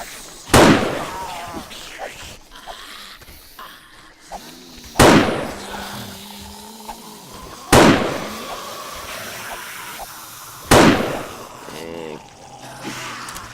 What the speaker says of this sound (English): is pipe bombs